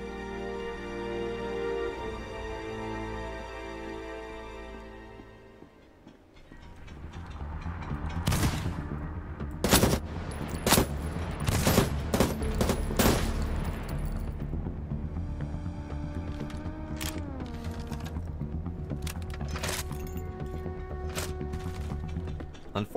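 A heavy gun in the sci-fi shooter Moon Mystery fires a string of loud, sharp shots in uneven bursts through the middle section, following quieter tonal music-like sound, with sustained rumbling after.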